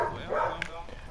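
A dog barks briefly in Red Dead Redemption 2, a quick yip heard once over game ambience with a voice talking underneath.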